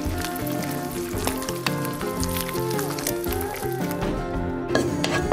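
Seafood frying in a pan for a pasta dish, a dense, continuous sizzle with crackles, layered under steady music.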